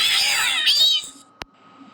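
A cat gives one drawn-out, wavering meow lasting about a second, loud and close. It ends in quiet with a single sharp click.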